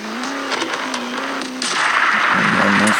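A racing truck's engine in the video game Racing Xtreme 2 drones steadily, then revs harder with a rising, gritty roar and tyre noise. The sound is loud and continuous.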